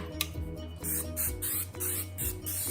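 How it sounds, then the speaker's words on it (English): Several short bursts of cooking spray hissing close up onto a casserole pan, five or six quick sprays in a row over a low steady hum. "First thing we have to do is spray our casserole pan."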